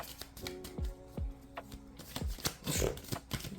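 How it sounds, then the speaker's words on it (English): Tarot cards being shuffled in quick bursts of riffling and soft slaps, close and fairly quiet, with short pauses between passes. "I'm just gonna shuffle real quick"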